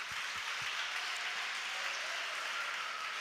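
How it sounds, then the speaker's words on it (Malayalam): Sustained applause from an audience at a Malayalam church service, a steady dense wash of clapping throughout with no pauses. "give A big clap"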